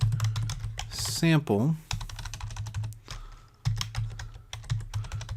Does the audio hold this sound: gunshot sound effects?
no